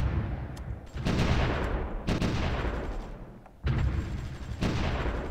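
Gunfire and artillery from the Supreme Ruler Ultimate strategy game during a Ruhr pocket battle: loud, dense bursts of shots and booms that roll continuously, with a few sharp dips and renewed volleys, and no talk.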